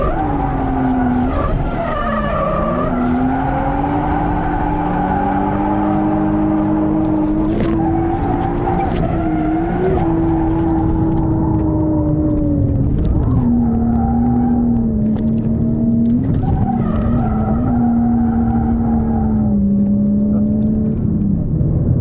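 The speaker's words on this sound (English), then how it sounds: "They slide further on the handbrake than the Kendas did, so that makes tandeming a fair bit easier" A drift car with an RB20 engine slides sideways on drift tyres. A loud, sustained engine drone rises and falls with throttle while tyres squeal continuously, close and without voices, for over twenty seconds.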